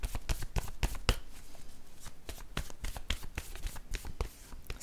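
Word cards for a tarot-style reading are shuffled by hand in a steady run of crisp, close riffling flicks and slaps, with no voices.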